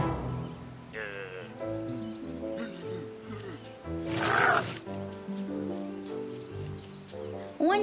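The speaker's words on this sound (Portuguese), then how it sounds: "E os outros bichos começaram a gritar para chamar o Curupira." Cartoon forest animals cry out together in a noisy chorus of overlapping calls, squawks and roars, with a bright shrill burst in the middle over a busy animated soundtrack.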